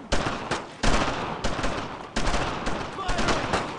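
Heavy gunfire in the World War II shooter Brothers in Arms: Road to Hill 30, with loud, sharp rifle and machine-gun bursts firing rapidly and continuously over a dense battlefield din, with shouted voices mixed in.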